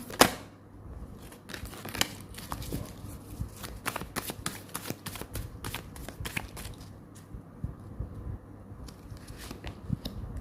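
Tarot cards shuffled by hand during a reading, giving a series of close, crisp riffling and flicking bursts in an irregular rhythm with no talking.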